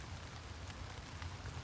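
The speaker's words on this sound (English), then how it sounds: "Raining in Houston today." Rain falls outside in Houston, a faint, steady wash of patter with a soft low rumble and no voices.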